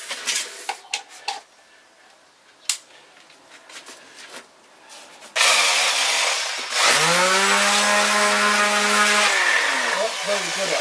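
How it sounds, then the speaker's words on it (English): A power sander grinds down a large wooden pike model, starting with scattered handling knocks and clatter, then a loud sustained whir that dips in pitch under load and runs steadily to the end. "Let's just check that sander and see how well that grit will take this down"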